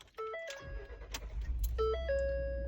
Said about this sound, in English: I mean, the truck's just idling and it starts right up.